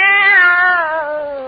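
A single long, clear cat meow, loud and close, its pitch sliding gradually downward as it fades.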